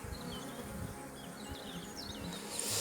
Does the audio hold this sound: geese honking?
no